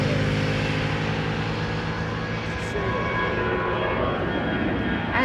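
An easyJet airliner at Amsterdam Schiphol gives off a loud, continuous engine roar with a steady low drone, and a voice is heard briefly.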